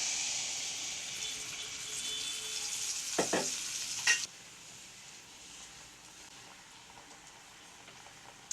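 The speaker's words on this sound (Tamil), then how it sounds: "இப்போ நம்ம இன்னொன்று ஊற்றிக்கலாம்." Seeni paniyaram batter fries in a pan with a steady, close sizzling hiss. The hiss drops in level about halfway through, and a couple of sharp clicks sound from the pan.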